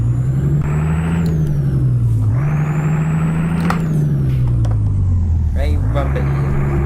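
A Volvo FH12 truck engine in Euro Truck Simulator 2 rumbles with a deep, raspy drone that rises and falls in pitch as it pulls away under load, steady and close throughout.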